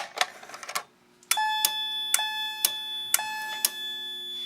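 A fire alarm on a test panel rings in code 3 pattern, giving sharp repeated bell-like strikes that sustain in bright tones, loud and close. Faint clatter comes before it, then a short silence, then the pulses at a steady rhythm.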